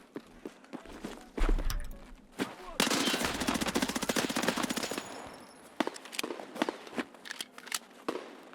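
Gunfire in the video game Escape from Tarkov: a sustained rapid automatic burst dominates the middle, with scattered single shots and clicks before and after, fairly loud and without talk.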